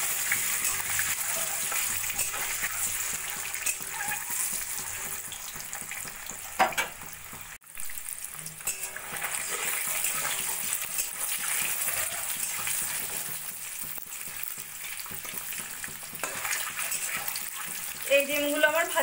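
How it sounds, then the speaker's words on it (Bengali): Eggs fry in hot oil in a pan for an egg curry, a steady close sizzle with occasional stirring clinks and scrapes, while a voice speaks intermittently over the cooking. "ডিমগুলোকে এভাবে আমি সোনালি করে ভেজে তুলে নেব।"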